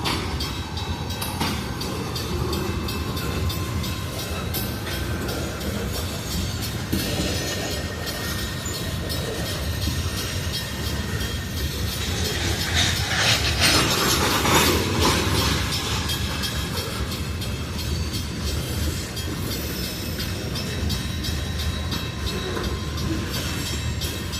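A freight train with tanker cars rolls past a railroad crossing, a continuous loud rumble with rhythmic clickety-clack of wheels over rail joints, swelling briefly midway, with no talking.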